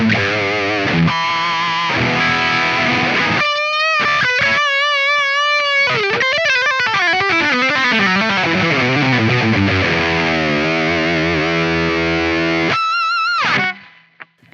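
Loud, heavily distorted electric guitar through a Line 6 Helix Das Benzin Lead amp model, riffing and bending notes with spacious plate reverb, playing alone before cutting off near the end.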